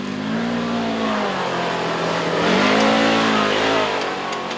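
A Polaris RZR XP four-seater UTV drives a tight wooded trail, its engine droning loud and close with a steady hum that rises as it revs briefly, then settles back.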